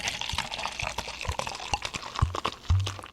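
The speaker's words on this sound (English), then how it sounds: "Let me pour another beer for myself." Beer poured into a plastic solo cup: close splashing and fizzing liquid with a few soft knocks of plastic, brief and fairly quiet.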